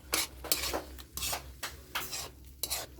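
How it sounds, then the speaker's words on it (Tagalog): A utensil stirs food in a pan as a bay leaf-scented sauté cooks, with rhythmic scraping strokes about every half second, close but fairly quiet, and no talking. "Haluin natin."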